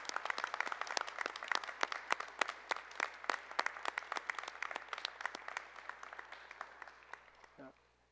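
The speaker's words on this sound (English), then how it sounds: "If we could one more time get a round of applause for all of our recipients." Applause at a high school junior book awards ceremony, many separate claps ringing out at a steady pace in a fairly quiet room, thinning out and fading toward the end.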